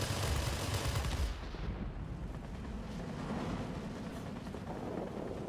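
Machine guns on a Lockheed P-80A Shooting Star jet fighter in the World of Warplanes game fire a dense, sustained rattle that blends with heavy engine roar, staying loud and continuous throughout, without speech.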